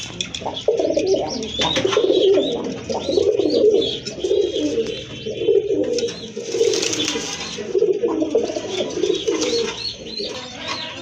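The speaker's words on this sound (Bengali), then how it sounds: "আর এখন কিন্তু আরেক জোড়া কবুতর দেখতে পাচ্ছেন" A pair of Giribaz pigeons at a pigeon sale coo repeatedly in soft, rolling, throaty phrases, close and clear, with a few faint chirps from other birds in the background.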